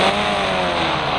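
A motorbike engine in the Indian Bike Driving 3D game drones loudly and steadily, a close, continuous motor hum with no break and no voices.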